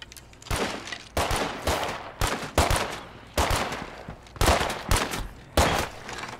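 Bursts of gunfire from State of Decay 2, several loud clustered volleys of shots in quick succession separated by short gaps, close and sharp with no voices.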